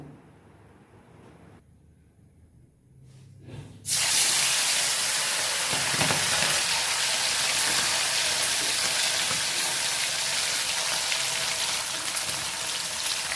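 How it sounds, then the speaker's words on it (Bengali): Garfish (kaikka) dropped into hot oil in a wok bursts into a loud, dense frying hiss after a few quiet seconds, then keeps sizzling steadily close by. "এইভাবে আমি সবগুলো মাছ ভেজে নেব।"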